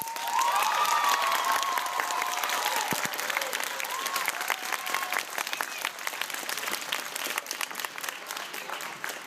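An audience at an honor band concert claps loudly and continuously, a dense wash of applause with a few cheers near the start.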